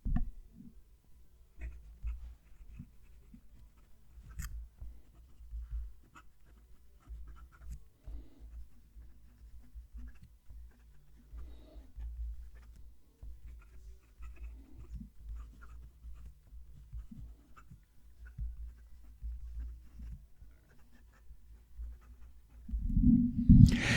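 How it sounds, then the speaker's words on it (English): HongDian 100 fountain pen nib scratching across paper up close, faint soft strokes and light ticks in a quiet room, with a louder bump at the very end. "Let's move the mic down to the page and I'll write a sentence."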